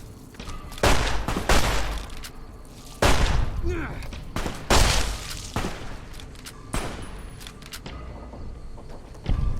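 Gunshots in the video game Fallout: New Vegas, sharp loud reports spaced irregularly every second or two with booming tails, while a voice talks in between.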